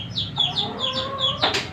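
Chickens and freshly hatched chicks raising a noisy racket, a run of repeated high cheeping peeps over low clucking, loud and close with no talking.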